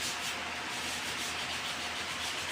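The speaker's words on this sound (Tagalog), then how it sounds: "Linisin muna natin siya." A cloth rubs steadily over a cleaned part of a Toyota Innova instrument panel gauge with a blackout fault, making a continuous close, soft scrubbing hiss with no pauses.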